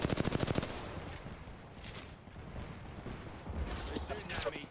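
Bursts of automatic gunfire in Apex Legends during a match, a fast close volley at the start, then scattered shots and another loud burst near the end, with a voice speaking over part of it.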